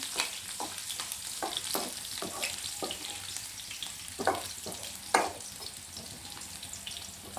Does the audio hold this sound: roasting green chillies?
yes